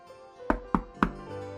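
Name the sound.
knocking on a door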